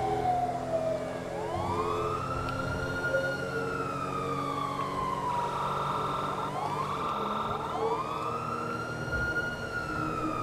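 Wailing police siren in the video game GTA 5, sweeping up and down in long repeated cycles, loud and continuous with a second overlapping siren and traffic rumble underneath, no talking.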